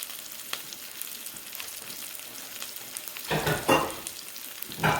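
Chicken cutlets coated in flakes frying in oil in a pan, a soft continuous sizzle with light crackles that swells into louder bursts of spattering toward the end.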